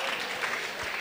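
Audience applause, a brief dense wash of clapping that stays steady and moderately loud throughout, with no clear voices on top.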